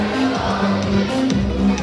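A bird-show audience at Cebu Ocean Park cheers for Goldie the macaw, a short burst of mixed crowd cheering and children's shouts, lively and continuous.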